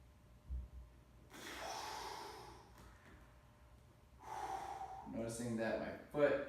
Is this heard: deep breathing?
yes